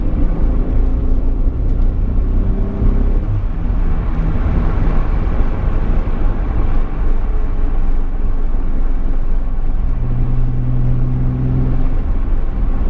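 A 1991 Nissan Fairlady Twin Turbo cruising at speed, heard from inside as a continuous loud engine and road drone with steady rumble and tonal hum, no talking.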